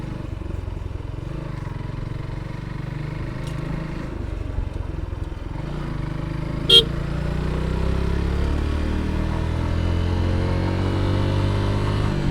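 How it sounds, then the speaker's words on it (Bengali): Motorcycles and auto-rickshaws pass on a road, their engines a continuous low rumble that swells toward the end, with one brief sharp clank partway through. "Motorcycle, autorickshaw."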